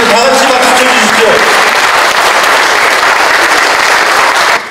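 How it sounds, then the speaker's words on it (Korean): A dense roar of audience applause fills a party meeting hall after a new party leader is confirmed, loud and continuous for several seconds before tapering off at the end. "다 같이 박수 쳐주십시오"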